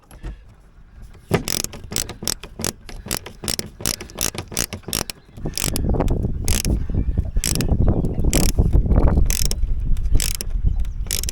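Small screws are driven into a fiberglass battery box with a power driver, giving a rapid ratcheting clatter that becomes a steady, louder whirring grind partway through, close up and with no talk.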